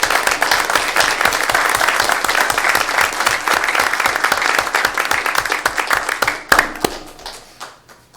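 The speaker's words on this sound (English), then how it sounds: "give them a round of applause for some great work" An audience claps in a steady round of applause at a police recognition event, crisp individual claps clearly audible, tapering off into a few scattered claps at the end.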